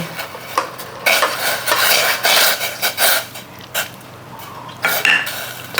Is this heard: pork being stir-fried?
yes